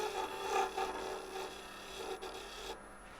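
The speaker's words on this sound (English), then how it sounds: "Just want to get a nice shear cut along the side here, a little scrape anyway to make sure I don't have any tool lines" A woodturning tool shear-scrapes the side of a spinning myrtle bowl on a lathe, a steady close raspy rub with a few brief swells, stopping abruptly near the end.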